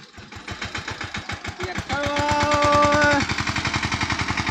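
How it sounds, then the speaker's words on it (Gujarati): A tractor's diesel engine chugs with a rapid, steady knocking rhythm close by, briefly revving louder with a whine before settling back to idle. "આ કોનું ટ્રેક્ટર હેડે છે વળી?"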